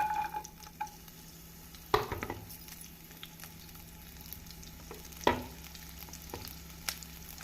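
Steady frying sizzle of onions with cumin in hot oil, a constant crackling hiss with a couple of sharper clatters from stirring.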